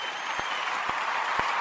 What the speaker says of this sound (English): Give you some hand claps.